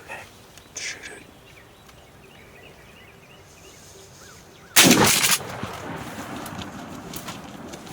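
A single loud shotgun blast fired at a turkey while hunting, sharp and close, followed by a lingering echo over a quiet outdoor background with faint insects and small rustles.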